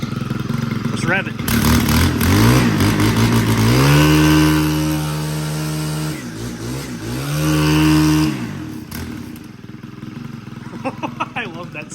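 A Stihl FS91R string trimmer's 4-MIX engine revs hard twice up close, the pitch climbing and holding before dropping back, then settling toward a lower idle near the end.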